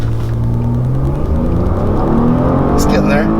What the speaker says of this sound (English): let's actually put it in sport mode. We'll see if it'll do a launch start.